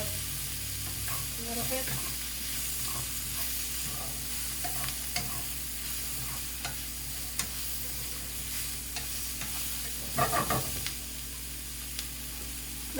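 Ingredients sauté in a hot pan with a steady, close sizzle and repeated stirring scrapes throughout, briefly joined by a few spoken words.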